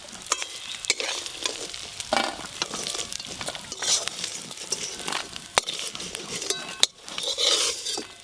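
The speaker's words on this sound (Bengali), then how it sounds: "এই যে কাঁকড়াগুলো একদম লাল লাল করে ভেজে নিয়েছি।" Crabs frying in hot oil in a pan crackle and sizzle steadily while a utensil stirs them, with frequent metallic scrapes and clinks against the pan.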